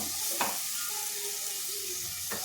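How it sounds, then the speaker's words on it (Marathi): Chopped tomatoes being stirred in a hot pan for soybean bhaji, a steady close sizzle with a couple of soft scraping stirs of a spoon against the pan. "आता हे टोमॅटो टाकायचे चिरलेले. छानपैकी मिक्स करून घ्यायची टोमॅटो."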